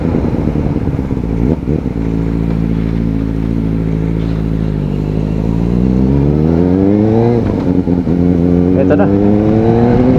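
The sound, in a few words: Kawasaki ZX-4RR motorcycle riding off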